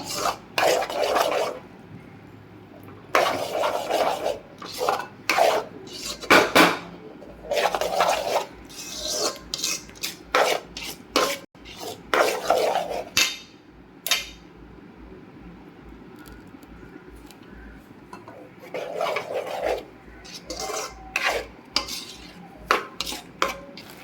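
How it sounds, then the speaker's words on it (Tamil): A sweet mixture with strained sugar syrup is stirred in a pot, rough scraping and rasping strokes of a spoon against the metal in repeated bursts with short pauses, close and fairly loud, no speech. "இப்படி கிண்டிகிட்டே இருக்கணும்."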